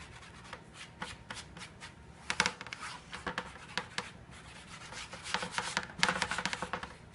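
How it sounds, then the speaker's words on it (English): Brisk brushing strokes sweeping excess flour off puff pastry dough, a close series of soft scratchy swishes in irregular bursts with no voices. "Just try to brush all the excess flour off."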